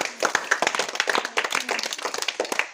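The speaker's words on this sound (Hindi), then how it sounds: "ताली बजाओ यार" Children in a group clapping their hands, a quick run of distinct, uneven claps close by, fairly loud and bright, with no talking over them.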